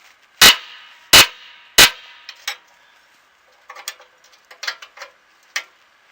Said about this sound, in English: you can only get just a little bit of a turn, and if you go too far, you can't get the box end wrench off